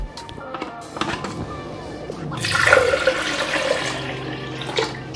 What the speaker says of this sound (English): Now I'm gonna add about 2 cups of water to the blender.